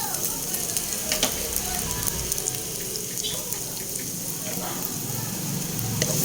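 Ginger sautéing in oil for mussel tinola, a loud continuous sizzle with scattered crackles and light stirring, while a voice speaks intermittently over it.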